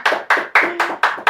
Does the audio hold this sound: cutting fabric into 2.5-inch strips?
no